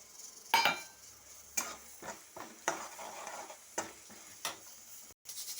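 Dried red chillies, garlic cloves and curry leaves fry in hot oil, with a soft sizzle beneath irregular scraping stirs and clinks of a spatula against the pan, close by.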